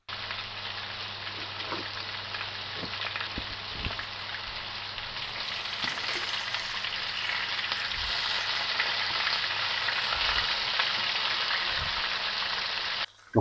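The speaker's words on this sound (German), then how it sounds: "Die brutzeln vielleicht 1, 2 Minuten von jeder Seite" Steady, close sizzling of low-carb Turkish-style köfte meatballs frying in a hot pan without oil, a continuous crackling hiss with occasional soft pops and scrapes, no talking.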